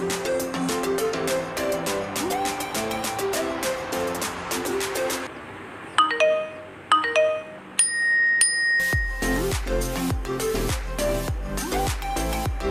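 Phone message notification tones play in a run of short bright chiming notes, with bell-like dings and repeated plucky melodic tones, loud and close, with no talk.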